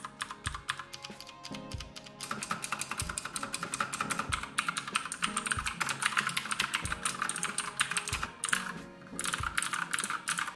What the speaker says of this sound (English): It just feels good when typing.